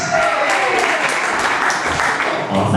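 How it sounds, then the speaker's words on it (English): A talent show audience breaks into steady, dense applause that holds loud and even throughout, with a few voices faintly mixed into the crowd. "In my book, that deserves a thunderous round of applause"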